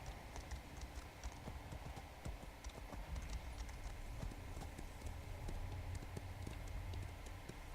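Horse hooves clip-clop steadily in Elder Scrolls Online, a quick continuous gait of light, even hoofbeats under a faint backdrop of game ambience.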